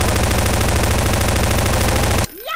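Automatic gunfire from the Granny video game rattles in a rapid, loud, continuous burst for about two seconds, then cuts off abruptly, leaving a brief whooshing effect.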